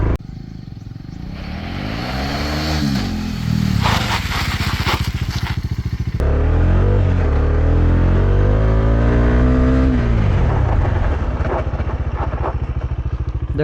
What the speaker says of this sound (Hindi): अब मैं आपको ब्रेकिंग करके दिखाता हूँ, इसमें पहिया जो है बिल्कुल भी स्केट नहीं करेगा।